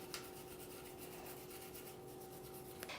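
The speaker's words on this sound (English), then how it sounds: "Scrub the inside of the frame, which is already wet with cleaner. Focus on the trigger assembly." Faint, rapid scrubbing of a brush inside a semi-auto pistol frame wet with cleaner, working around the trigger assembly in quick repeated strokes at close range, with a small click near the end.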